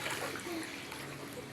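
Steady splashing from someone swimming in water, a continuous close wash of splatter with faint voices of children mixed in.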